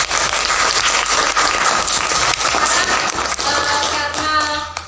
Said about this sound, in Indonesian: Oke, tepuk tangan buat kelas ini.